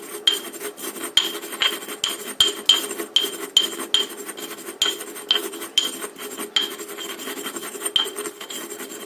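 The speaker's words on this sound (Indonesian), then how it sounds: "Yang pertama, kita haluskan dulu bawang putihnya." Fried garlic being ground smooth in a mortar, with rhythmic scraping and grinding strokes repeating steadily about once or twice a second, close and clear, no voices.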